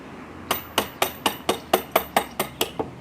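A hammer taps a 12mm bar through a wooden fence post, nine sharp metallic strikes at an even, steady rhythm, close and loud, with no talk.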